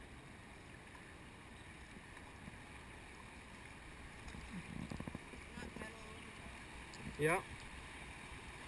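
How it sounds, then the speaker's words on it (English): People paddle a canoe on open water, with faint irregular paddle splashes and water sloshing under steady wind noise, a brief voice replying, and a short louder splash near the end. "Keep paddling, guys. Paddle together."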